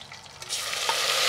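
Whole spices hit hot oil for a mushroom palav, starting as a light crackle and swelling into a loud, steady sizzle with some stirring, heard up close with no talking.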